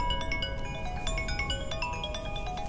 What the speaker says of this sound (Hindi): ये देख, मैसेज की घंटी, आ गया नंबर।